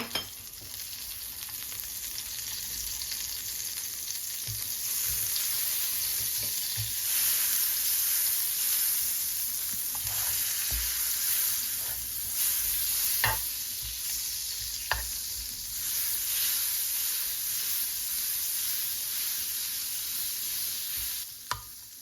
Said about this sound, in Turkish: Bir tatlı kaşığı tereyağımızı koyuyorum.